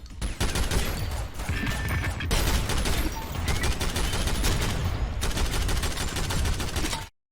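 Sustained automatic gunfire from the roguelike shooter Synthetik, dense rapid bursts running loud and continuous for about seven seconds with brief gaps, ending abruptly in silence.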